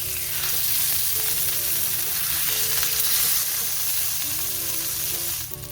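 Steady, loud sizzling of a pork roast browning in a hot pan, a continuous crackle with no talking.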